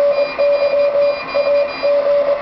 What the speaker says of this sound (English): Turn beep on, it basically will turn this little fellow on.